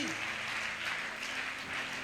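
A church congregation at a Pentecost service applauds, producing dense, sustained clapping that fills the space at moderate loudness, with a brief vocal tone at the start.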